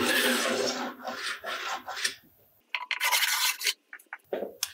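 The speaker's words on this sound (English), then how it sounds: "make sure your edges are completely wax free by using the side of the scraper" A plastic scraper is pulled along snowboard edges to strip off wax, making close, dry rasping strokes in several bursts separated by brief silences.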